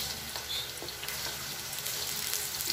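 Garlic frying in a pan for a tofu and pork dish with vegetables, a steady bright sizzle holding at an even level throughout with faint scraping underneath.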